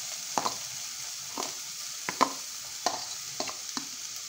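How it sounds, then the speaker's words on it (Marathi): Onion frying in hot oil for homemade mixed-vegetable burger tikki: a steady soft sizzle broken by several sharp scrapes and clicks of stirring in the pan, close and alone without speech. "आता तेल तापलं आहे ना, आपण आधी कांदा ॲड करूया."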